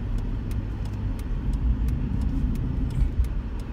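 A car passes on a highway through dense forest on a sunny day, giving a steady broadband road rumble with faint repeated clicks and no voices.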